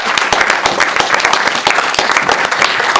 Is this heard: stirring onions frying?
no